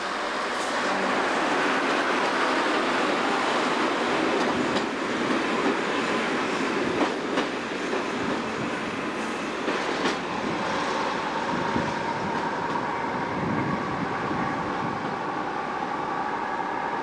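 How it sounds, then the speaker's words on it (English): A diesel multiple unit train pulls out of Penzance station with a steady engine rumble and rolling wheel noise, a few clicks and faint squeals of wheels on track. It holds at a constant, moderately distant level throughout, with no talking. "Here we see a diesel multiple unit train leaving from Penzance"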